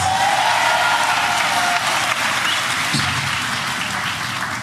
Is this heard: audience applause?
yes